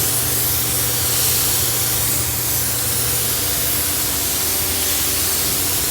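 A spray gun lays a slow second coat of Mazda tristage 25D paint over sealer, a steady, loud, unbroken hiss lasting several seconds.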